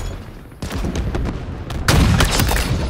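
Rapid sniper and rifle gunfire from a Halo Infinite multiplayer match, a dense burst of sharp shots and booms that grows louder and heavier partway through, with no talking.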